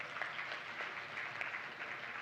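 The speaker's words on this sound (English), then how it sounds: "je vous demande d'applaudir très fort" Distant applause from a large audience at a conference session on gender, a soft continuous wash of clapping heard from far off.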